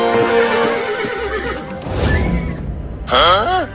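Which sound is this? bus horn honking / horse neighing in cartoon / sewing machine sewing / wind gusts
horse neighing in cartoon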